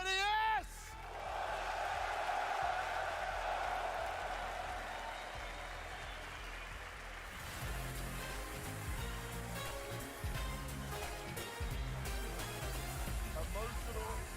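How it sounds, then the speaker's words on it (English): A large home crowd at a CS:GO Major in Lithuania applauds and cheers loudly for Kenny S during his send-off. The cheering swells into sustained applause and whoops, with a commentator talking over it and music following. "big round of applause for the legendary Kenny S!"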